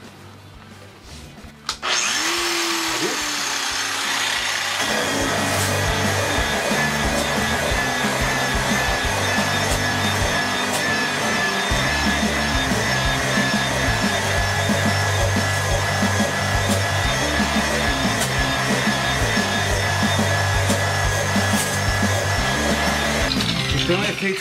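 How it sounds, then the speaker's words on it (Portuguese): Sandpaper steadily rubbing across a metal surface to give a brushed finish, a loud, continuous abrasive hiss that starts after a short pause and runs without a break. "passando uma segunda lixa"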